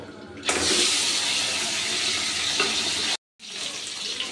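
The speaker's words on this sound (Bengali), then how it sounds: "এবার আমি মাছের মাথাগুলো ভেজে নেব" Tengra fish heads fry in hot oil with a loud, steady, close sizzle that cuts out briefly near the end and then resumes.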